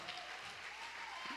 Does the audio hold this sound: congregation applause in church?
yes